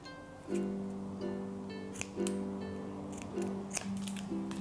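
Scissors cutting cord while building a DIY self-watering moss pole: several short snips and metallic clicks, close and fairly quiet, over a steady background hum.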